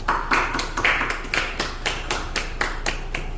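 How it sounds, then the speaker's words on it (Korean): A small congregation at a Korean church's Friday night service claps in welcome, steady rhythmic claps about three per second, fairly close and moderately loud, with no talking over them. "박수로 환영합니다"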